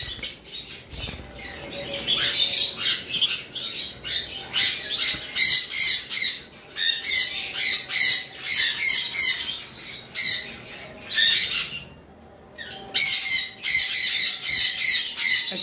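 A pair of violet Fischer's lovebirds and other caged lovebirds screech in loud, rapid bursts of harsh squawks, with wing flutters and a brief lull near the end.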